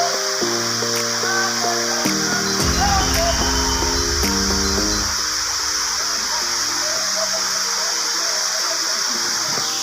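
A waterfall in Mayurbhanj gives a steady, full rushing wash of water throughout, partly buried under music with clear tonal lines.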